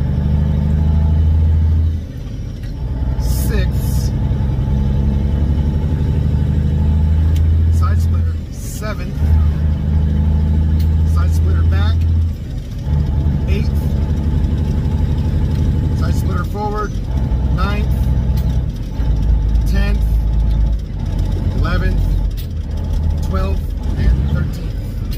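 Semi truck diesel engine with a 13-speed manual transmission, droning loud and steady through upshifts from second to fourth and a splitter change, the engine note dipping briefly at each shift while someone talks over it.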